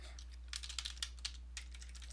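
Keys clatter on a computer keyboard as labels are typed, a quick uneven run of light clicks up close, fairly quiet over a low steady hum.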